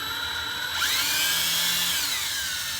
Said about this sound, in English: Then all you do is just reverse your drill chuck out.